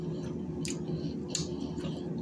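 A crunchy Taco Bell Loco Supreme taco is chewed up close, two crisp crackling bites standing out over a steady low background hum.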